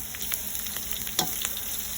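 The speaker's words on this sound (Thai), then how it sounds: "เอากระเทียมกับพริกที่เราสับไปนะคะเจียวลงไปเลยค่ะ" Steady crackling sizzle of garlic and chili frying in hot oil, with a few sharper pops and spatters, close and continuous.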